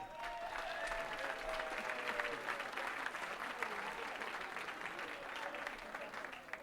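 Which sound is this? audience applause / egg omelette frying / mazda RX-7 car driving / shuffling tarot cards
audience applause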